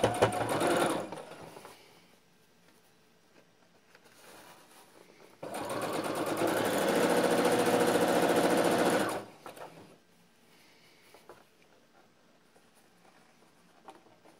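A sewing machine stitches a folded waistband casing for a drawstring on a salwar, running in a few bursts, with one long steady run in the middle and quiet handling sounds between.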